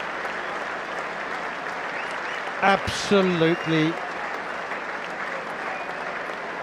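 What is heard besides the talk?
standing ovation from Trent Bridge cricket crowd for Ben Stokes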